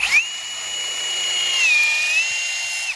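A power drill with a 5/16 inch bit boring into wood for window sash making, a loud steady high motor whine that dips briefly in pitch under load before finishing.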